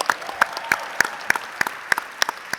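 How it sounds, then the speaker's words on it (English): Brief applause at a Pittsburgh political gathering with state representatives and a state senator. A few sharp, evenly spaced claps ring out close by, sounding thin, as if from only a handful of people. "So give a round of applause."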